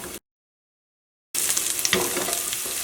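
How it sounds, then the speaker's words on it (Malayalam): Ginger sizzling and being stirred in hot oil in a pan, a close, crackling fry with scraping stir sounds, resuming loudly after a short silent gap. "ഇഞ്ചി നന്നായിട്ടൊന്ന് മുരിയണം കേട്ടോ"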